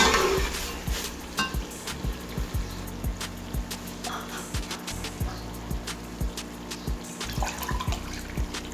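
Water splashes and gurgles steadily into a cooking pot of chicken pulao with rice, with repeated pouring pulses and some clinks of the pot.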